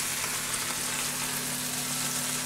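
Burgers sizzle in a frying pan, a close, constant crackling hiss with a faint low hum beneath it.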